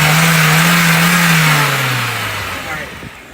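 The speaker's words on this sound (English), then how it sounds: "go record it and then I'm gonna rev it up." A car engine fitted with a cold air intake revs loud and close, then drops back toward idle as the tone slides down and fades over a few seconds, with voices nearby.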